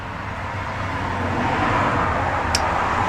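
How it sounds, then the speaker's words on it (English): Steady road traffic hum near a grammar school, a constant low rumble of passing cars with no voices, fairly close and even in level. "So there's going to be car noise."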